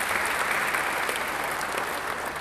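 A church congregation applauds during an Indonesian sermon, a steady wash of many hands clapping at moderate loudness, with no break across the short stretch.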